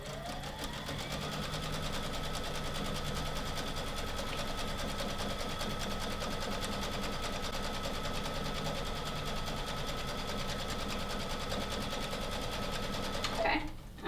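A sewing machine runs steadily for a long stretch, stitching fabric around rope to form a rope bowl, a close, even mechanical whir that stops near the end.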